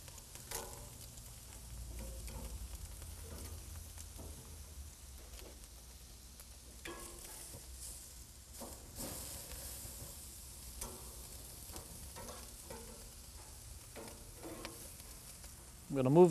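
Steak and eggplant sizzle on a grill with a soft, steady crackle and occasional spits from a flare-up, fairly faint throughout, ending in a brief louder clatter.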